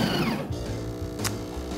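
A fully automatic Jennifer Room Steam Latte Pro coffee machine brews an americano with a steady mechanical hum and drone, broken by a brief higher whir partway through.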